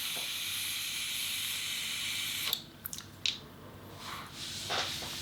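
An Augvape Druga Narada pod with a 0.6 ohm mesh coil and fully open airflow gives a steady, close airy hiss during a long draw, then the hiss stops and a few soft clicks and breaths follow.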